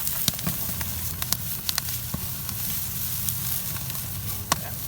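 Campfire burning beneath jalapeño garlic chicken wings, giving a steady hiss and low rumble with scattered sharp pops and crackles, close and continuous.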